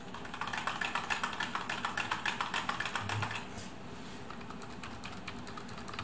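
Rapid, steady clicking of fingers typing on a TedGem wireless keyboard, close and moderately quiet, a dense patter of keystrokes for about three seconds before fading to room hum.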